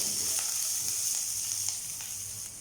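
Chopped onions hiss in hot oil with cumin and curry leaves for capsicum poriyal, a dense continuous sizzle heard close up with a few faint stirring taps and no talk.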